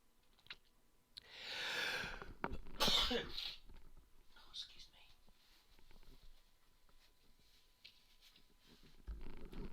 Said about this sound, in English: Why am I suddenly sneezing?